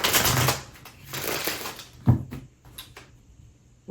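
Tarot cards are shuffled by hand during a reading: soft papery riffles and slaps, louder at first and then sparser and quieter, with no voices.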